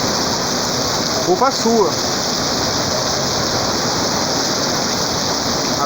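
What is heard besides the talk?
heavy rain falling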